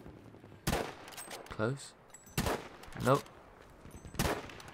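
Gunfire from multiplayer combat in Battlefield 5: sharp, loud single shots at irregular intervals, with a voice speaking briefly between them.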